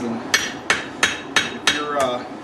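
Hammer striking hot metal while forging shelf brackets at an anthracite fire, six sharp ringing blows at an even rhythm, loud and close.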